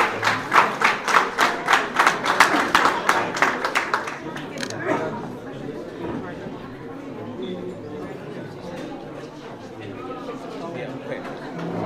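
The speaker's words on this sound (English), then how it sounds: "Let's give her a round of applause." A crowd at an Eid al-Fitr 2023 celebration in Brooklyn claps in a strong, regular rhythm as a senator is called to the podium. After about four seconds the clapping fades into murmured chatter and room noise.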